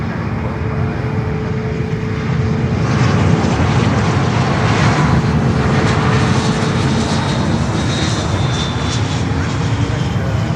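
American Airlines airliner arriving from Philadelphia at Fort Lauderdale airport, a loud, close jet engine roar that builds slightly and holds steady throughout.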